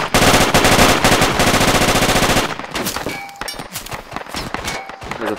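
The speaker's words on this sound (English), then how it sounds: "There's a fucking specialist shooting at me." Rapid automatic gunfire from an enemy specialist in the video game Project Reality, a loud dense burst of shots that gives way to scattered thuds and ringing impacts.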